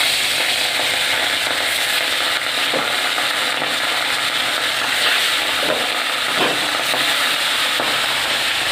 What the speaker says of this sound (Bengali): প্রথমে আমি মাছগুলো ভেজে নেব